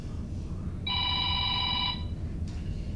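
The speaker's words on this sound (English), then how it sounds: "It's your phone." A mobile phone rings during a local agricultural commission meeting, a steady electronic tone lasting about a second over the room's low background hum, then cutting off.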